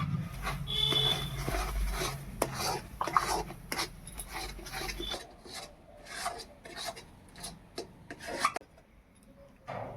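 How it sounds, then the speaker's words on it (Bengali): Powdered milk is mixed into a pumpkin laddu mixture, with repeated rasping, rubbing scrapes of a utensil against the bowl, close and fairly quiet, falling into an irregular stroke rhythm in the second half. "এবারে কিছুটা গুঁড়ো দুধ দিয়ে ভালোভাবে মিশিয়ে নেব"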